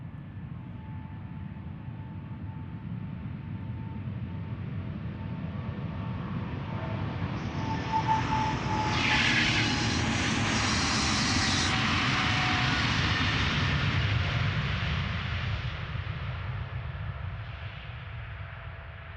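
Jet airliner departing Amsterdam Schiphol Airport, heard up close as a loud, sustained engine roar that swells to a peak midway and then slowly fades, with no talk over it.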